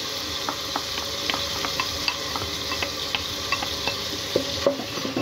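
Chopped garlic and celery sauté in a pan for a chorba soup, giving a steady close sizzle broken by frequent light taps and scrapes of a utensil stirring against the pan.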